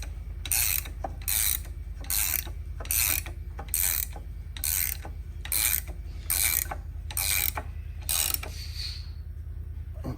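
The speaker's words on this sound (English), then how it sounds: "we're pressing that other bearing in" A tapered roller bearing is pressed into a factory six-speed transmission case with tooling, making a regular rasping, ratcheting scrape about once a second over a low steady machine hum, ten strokes in a row.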